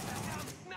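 Gunfire in Tom Clancy's The Division, a single game gunshot burst ringing briefly at moderate level, with players' voices nearby.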